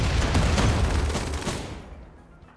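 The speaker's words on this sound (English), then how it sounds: "There goes the triple rocket launcher." A triple rocket launcher fires in the Rimworld video game: a loud, dense burst of rapid blasts and roaring rush that fills the start, then fades out into a trailing rumble.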